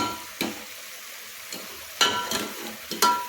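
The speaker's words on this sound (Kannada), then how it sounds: "ಹಾಕೊಂಡು ಈ ಥರ ಫ್ರೈ ಮಾಡ್ಕೋಬೇಕು" Half a tomato frying in tempering oil, a low sizzle broken by several sharp stirring scrapes and clatters spaced irregularly, close by.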